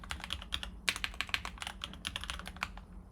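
A computer keyboard typed on while entering a username and password gives brisk, uneven bursts of crisp key clicks. The sound is close and fairly loud, with no one speaking.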